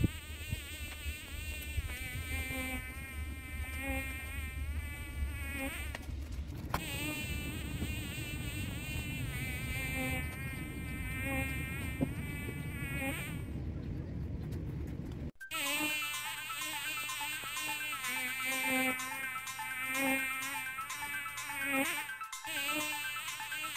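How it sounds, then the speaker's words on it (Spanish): Mosquitoes buzzing in a steady, dense insect drone with high harmonic whine, continuous and fairly close, briefly cutting out near the end before resuming. "estos mosquitos no son un bichito cualquiera"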